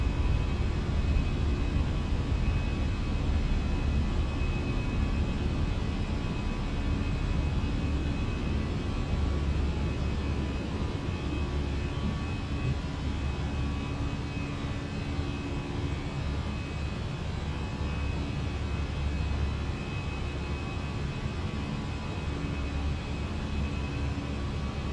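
An easyJet airliner's engines roar steadily during takeoff and initial climb in a flight simulator, a continuous broad engine rumble with no talk over it.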